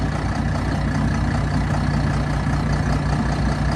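A 1993 John Deere 7800 tractor's diesel engine runs at a steady idle, a loud, low, even rumble with a fine rhythmic chug that carries on throughout, with no voices.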